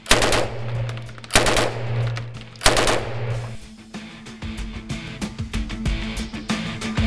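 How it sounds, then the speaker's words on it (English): A Beretta Model 12S submachine gun fires three loud, close bursts of rapid automatic shots, each burst ending in ringing echoes, followed by quieter clatter and mechanical handling noise. "This is the Beretta Model 12S."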